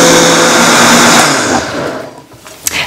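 A blender runs steadily, mixing Dutch baby pancake batter, with a loud even motor whir for about a second and a half before it winds down and stops, leaving faint clatter.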